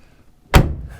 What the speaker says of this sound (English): I just love how these doors shut, because I know how these GMs were